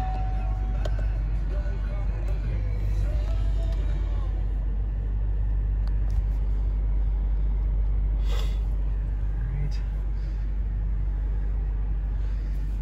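The engine of a 2021 GMC 3500 HD SLE pickup truck idles with a steady, deep rumble heard from inside the cab, continuous and moderately loud, with faint clicks over it.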